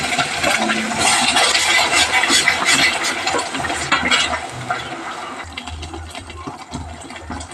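Onion, tomato, coriander and cumin paste fries in hot oil for a masala brinjal curry, a loud, steady broadband sizzle with a low hum beneath that eases slightly toward the end.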